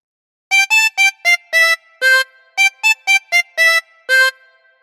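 Tremolo harmonica with 24 holes playing a Frère Jacques phrase, twelve clean reedy notes in two matching groups of six with a wavering tremolo tone, close and loud, alone in silence.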